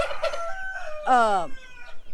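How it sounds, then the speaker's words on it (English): Rooster crows loudly and close at a homestead farm, a single drawn-out cock-a-doodle-doo preceded and followed by chickens clucking nearby. "She'll tell us every kind of chicken we got."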